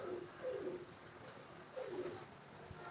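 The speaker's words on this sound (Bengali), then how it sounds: "খুব ভালো মানের একটা শিয়ালকুটি নর কবুতর" A male Sialkoti pigeon gives two soft, throaty coos, close by and fairly quiet, separated by a short pause against a faint background.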